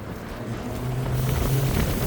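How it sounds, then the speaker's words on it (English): A pontoon boat motors across open water, its low, steady engine rumble close by and mixed with wind buffeting the microphone for a couple of seconds. "Yeah, it's a pontoon boat."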